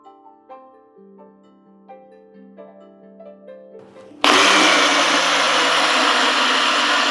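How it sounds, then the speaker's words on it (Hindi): Mixer grinder grinding cocoa nibs and sugar into paste: after a few seconds of quiet music, the motor starts abruptly and runs as a loud, steady, dense whirring roar to the end. "मिक्सर ग्राइंडर लेंगे और उसके अंदर डालेंगे कोको निब्स और शुगर, उसका एक बढ़िया सा पेस्ट बनाएंगे"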